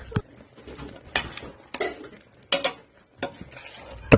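Sliced vegetables being stirred in a pot for pancit miki, with a utensil knocking and scraping against the metal in irregular clanks and taps over a faint background.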